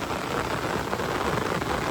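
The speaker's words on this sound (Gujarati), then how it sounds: "જો ફૂલ વરસાદ ચાલુ એકદમ." Heavy rain pours onto a farm field, a dense, even hiss of falling water that stays loud and constant throughout, with no voices.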